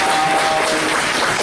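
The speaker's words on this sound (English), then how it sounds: "applause." Audience applause at a speaker series meeting, a dense, steady wash of clapping filling the short moment without a break, loud and close.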